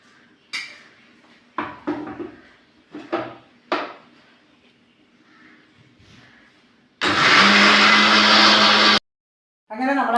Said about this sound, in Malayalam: ഇതേ പാത്രത്തിൽ തന്നെ നമുക്ക് ബീറ്റ്റൂട്ട് വേവിച്ചത് അരച്ചെടുക്കാം